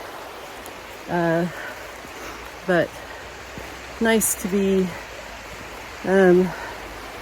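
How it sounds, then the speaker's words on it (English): A river flows beside a hiking trail on the Appalachian Trail, a steady broad rushing wash that runs throughout, with a person talking in short bursts over it. "Hiking along a river. I know you can hear it."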